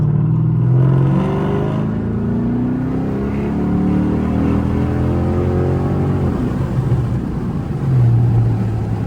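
A Chrysler 300C pulls hard, its engine note climbing through the gears with slow, drawn-out shifts between them, loud and steady from inside the cabin with no voices.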